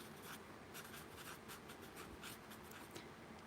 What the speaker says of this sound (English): I'll write it down too.